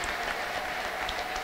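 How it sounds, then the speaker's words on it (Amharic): A congregation at a church healing service breaks into sustained, dense applause, with brief high trilling ululation cries rising above the clapping throughout. "ከፍ ያለ ልልታ ጭብጨባ"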